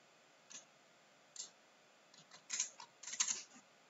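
Someone typing a number on a computer keyboard: a few scattered key clicks, then a quicker cluster of taps, crisp and close in a quiet room.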